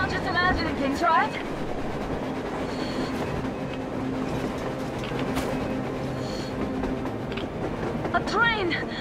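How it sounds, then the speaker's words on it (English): A train rolls past across the irradiated surface of post-nuclear Moscow in Metro Exodus, a steady mechanical rumble with faint rail clatter and brief high metallic squeals near the start and end. "A train! A damn train on the surface!"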